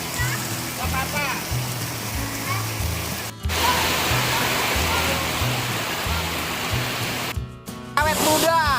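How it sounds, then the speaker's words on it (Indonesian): Roaring waterfall at Green Canyon, Pangandaran rushes loud and constant throughout, with a few voices faintly calling out beneath the cascading water. "Ada air terjunnya juga."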